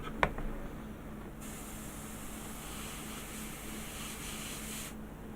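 An airbrush sprays paint onto a Star Trek Voyager model, a steady soft hiss lasting about three and a half seconds after a small click, with no talk.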